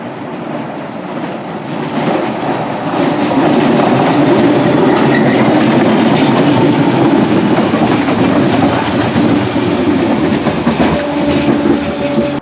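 A Merseyrail electric train rolls past near Brunswick station in Liverpool, a steady rumble with clickety-clack from the wheels that swells after a quiet start and holds loud to the end.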